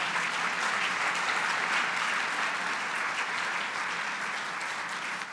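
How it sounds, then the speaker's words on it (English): Steady, evenly sustained clapping from a room of guests fills the space at a women in business awards event, honoring the award recipients without a break. "So a round of applause to all of you."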